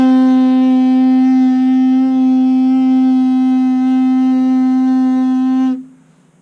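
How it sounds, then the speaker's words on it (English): A baritone player's free lip buzz, blown without the mouthpiece with closed lips and fast air, makes a single loud, smooth, steady low-pitched drone for nearly six seconds, then cuts off. "Here's a good free or lip buzz."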